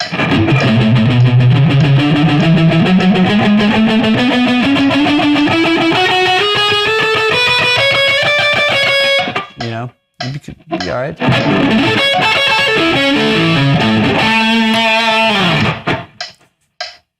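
Loud distorted electric guitar, a rising run of notes then choppy strummed chords, with a brief pause midway and a short spoken remark.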